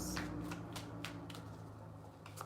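Tarot cards are shuffled by hand in a quick run of soft riffling flicks and taps, close up and fairly quiet, with no voices.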